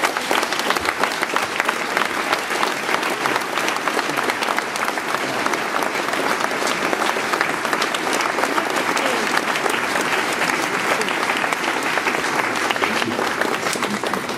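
A thunderous round of applause greets artist Yann Peignou at a ceremony with the French culture minister, dense continuous clapping from a large crowd lasting the whole time.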